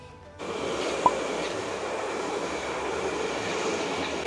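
A train rumbles past steadily with a broad roaring wash of rail noise, starting after a brief quiet moment, with a single sharp click partway through.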